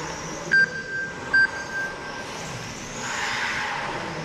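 Radio-controlled model race cars lap a club track during meeting finals, their thin electric whines sweeping past in short bursts over a steady background wash.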